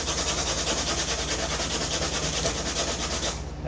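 Sandpaper rubs fast and continuously on part of a foam-and-fabric kayak frame, close and loud, a steady grinding hiss that stops abruptly at the end.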